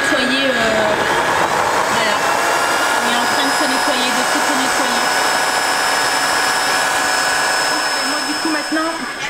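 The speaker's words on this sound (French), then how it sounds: "il faut appuyer sur le bouton et il va nettoyer la brosse comme nous quand on nettoie notre serpillière" A Tineco wet-dry floor cleaner runs its brush self-cleaning cycle, giving a loud, steady motorized whir with a high whine that continues for the whole stretch, then eases off slightly near the end.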